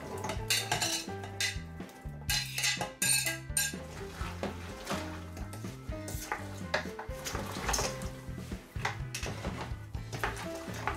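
A spoon clatters and scrapes around a metal pot of pea soup with bacon and chopped vegetables, producing continuous clinking and knocking close by, with no voices.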